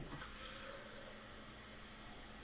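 Kitchen tap water runs steadily into a container being filled while pulled pork is prepared, a constant soft broadband rush with no break and no talking.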